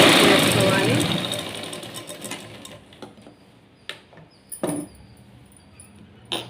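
A sewing machine stitches a blouse sleeve, whirring loudly at first and then winding down into scattered mechanical clicks and taps, while someone speaks.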